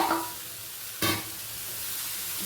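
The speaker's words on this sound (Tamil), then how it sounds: "இனிமேல் சிக்கன் அப்படியே போட்டு" Raw chicken pieces drop into a pan of hot, crisped spices and oil for Kashmiri chicken, giving a sharp burst of sizzle at once, then a steady, close frying hiss while being stirred.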